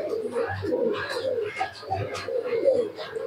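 A young high-flying tournament pigeon coos in low, soft bursts, two clearer ones standing out, over a steady murmur of background voices and room noise.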